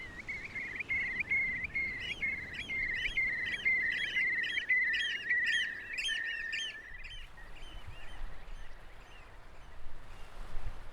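Shorebirds call at high tide on the Bay of Saint-Brieuc. Rapid, repeated chirping comes from a nearby flock, then thins out and fades to quieter scattered calls.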